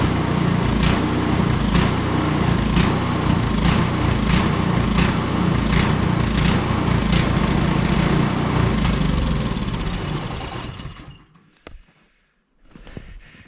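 A small equipment engine with a carburetor problem runs with a steady, loud, rapid putter, then sputters and dies after about ten seconds, leaving a few faint clicks and near silence.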